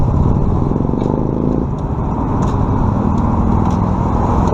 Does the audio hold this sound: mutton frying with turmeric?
no